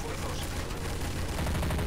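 Dense, continuous gunfire in Counter-Strike: Source, zombie escape mod on a Minecraft-style map, a steady distant-sounding wash of many shots with no pauses.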